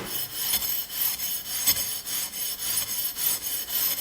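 A Scotch-Brite 7446 hand pad scrubbed back and forth across an aluminum extrusion, giving a steady, close, hissing abrasive scratch with regular rhythmic strokes and no talking.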